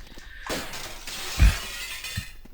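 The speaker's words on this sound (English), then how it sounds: "There are some walls that you can shatter." Walls shatter in Tomb Raider 2 Remastered, a sharp crash of breaking glass-like debris that stands out at moderate volume over a low game ambience, with no talking.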